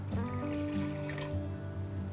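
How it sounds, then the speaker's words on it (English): Water runs steadily into a pot of fish stew for a couple of seconds, a continuous pouring splash with a hum in the background. "and we're gonna add our water"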